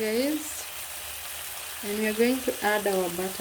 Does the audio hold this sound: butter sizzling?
yes